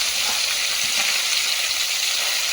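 Freshly washed, drained spinach dropped into a hot pan, bursting into a loud, continuous sizzle and hiss that holds steady close to the mic.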